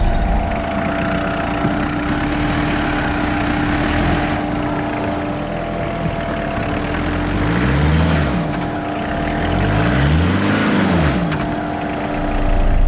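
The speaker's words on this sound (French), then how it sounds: "je suis en 4 roues motrices, boîte de vitesse courte, on prend la butte en travers" A four-wheel-drive off-road car in low gear grinds sideways up a mound, its engine droning loudly and steadily, then twice surging in rising revs as the wheels strain for grip.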